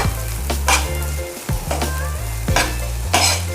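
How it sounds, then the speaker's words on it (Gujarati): Masala frying in a pan with red chilli and salt, stirred continuously: a loud, steady sizzle broken by repeated scraping strokes about once a second, with no voices. "હવે આપણો મસાલો મિક્સ થઈ રહ્યો છે"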